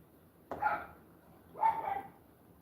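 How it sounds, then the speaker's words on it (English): Two separate barks from a dog about a second apart, moderately loud and somewhat distant, with quiet in between. "That's him barking right now."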